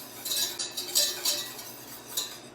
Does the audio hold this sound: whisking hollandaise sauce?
yes